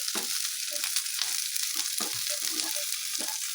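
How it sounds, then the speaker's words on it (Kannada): Okra (lady finger) frying in a little oil in a pan for an Indian chutney, giving a steady, close hiss of sizzling broken by soft scrapes and stirring knocks. "ಸ್ವಲ್ಪ ಟೈಮ್ ತಗೊಳುತ್ತೆ ಇದು ಬೆಂಡೆಕಾಯಿ ಫ್ರೈ ಮಾಡೋದು."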